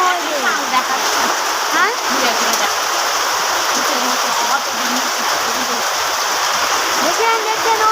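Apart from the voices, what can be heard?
lots of flowing water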